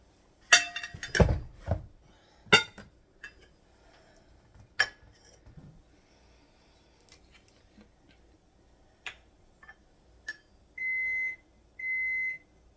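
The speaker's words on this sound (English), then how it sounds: "That's just my oven saying it's ready" A kitchen oven signals it has preheated with two steady electronic beeps near the end, after scattered clinks and taps of utensils.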